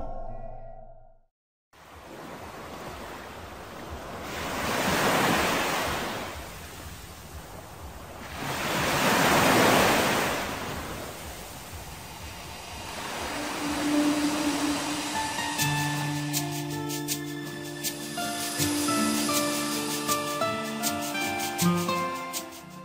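Strong wind and waves wash against a lake shore where fishing boats have pulled in, the surf rising and falling in broad swells, then giving way to a steadier tonal layer later on.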